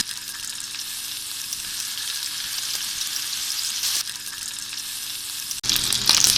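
Beef gola kebabs fry in hot oil in a preheated pan, giving a steady, close, bright sizzle with soft crackles throughout and a brief dip before it flares louder near the end.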